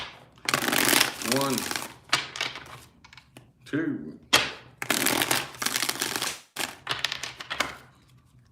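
Tarot cards are shuffled in a series of brisk papery bursts separated by short pauses, with a voice speaking and counting aloud between them.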